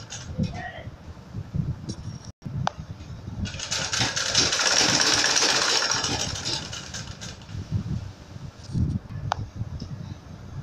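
A sewing machine runs along the edge of a frilled pillow case, its motor whirring steadily for several seconds after a brief pause, while a voice talks quietly in the background.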